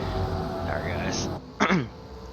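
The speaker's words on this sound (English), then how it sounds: "Trying to just clear my throat" A single short throat clearing sounds up close near the end, following a stretch of soft background noise.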